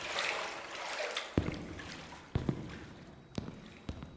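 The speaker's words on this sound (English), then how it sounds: "Pretty cool water effects." Faint water trickles quietly through a liminal-style horror video game room, a soft continuous wash broken by a few sharp clicks.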